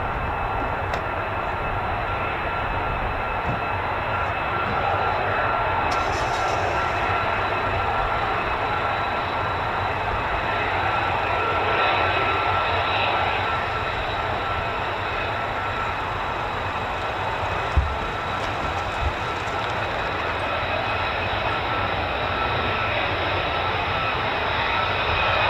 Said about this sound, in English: There's another F-35.